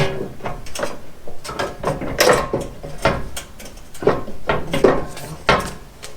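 Bolts are worked loose at the bottom of a rear license plate, with close irregular metallic clicks, ratcheting and rattling taps and no speech.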